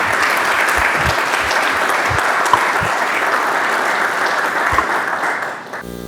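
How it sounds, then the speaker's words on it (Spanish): Sustained audience applause at a symposium welcoming a speaker, dense and steady clapping from a full room that fades out near the end. "les pido que recibamos con un aplauso"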